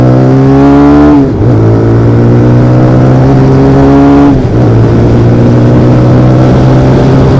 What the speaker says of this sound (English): Listen to the engine, listen to the exhaust.